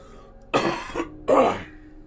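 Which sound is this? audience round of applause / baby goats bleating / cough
cough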